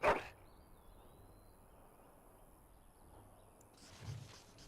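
A Mabari war dog in the video game Dragon Age: Origins gives one sharp, close bark at the start, followed by quiet ambient game sound and a soft low thump near the end.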